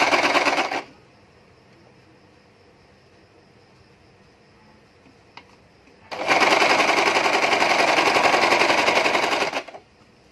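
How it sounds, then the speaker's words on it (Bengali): A sewing machine stitches a princess-cut nighty, running in two fast rattling bursts, a short one at the start and a longer one about three seconds long near the end, separated by a quiet pause. "এখন এখান থেকে আমি সেলাইটা স্টার্ট করব।"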